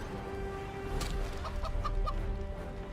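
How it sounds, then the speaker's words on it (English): A video game chicken gives short clucks from Divinity Original Sin II, faint and quick, set over a steady bed of game music and ambience. "We're gonna turn one into a chicken."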